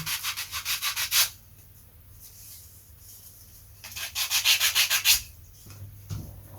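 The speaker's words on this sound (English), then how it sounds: "give that a quick sanding on the joints" Rhythmic back-and-forth sanding strokes on balsa wood joints of a model plane, two bursts of quick rasping passes separated by a quiet pause, close and clear.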